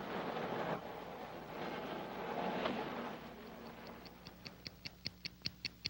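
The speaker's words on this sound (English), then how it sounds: "A wristwatch." A wristwatch ticks in an even rhythm, rising clearly out of fading rumbly city and train noise and growing sharper and more distinct over the last couple of seconds.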